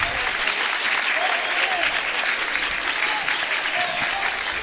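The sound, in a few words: basketball fans clapping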